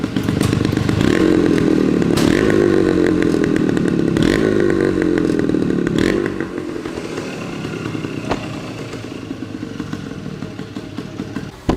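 A loud 1971 Yamaha DT1 motorcycle engine revs up and down in repeated surges, then settles into a rough, throbbing idle up close.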